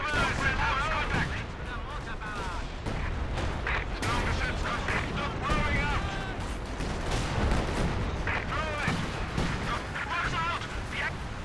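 Fragmentation bombs explode during a Company of Heroes 2 battle in Lienne Forest, a continuous rumble of blasts and gunfire with people talking over it the whole time.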